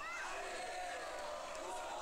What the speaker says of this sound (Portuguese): A torcida sobe o som.